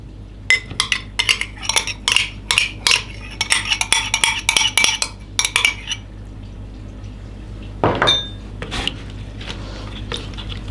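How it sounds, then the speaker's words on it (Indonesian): A spoon stirring coffee mixed with creamer and sweetened condensed milk, with quick, bright clinks of metal against the glass in rapid bursts, then a pause and a few slower, softer taps and a splash. "Kita aduk."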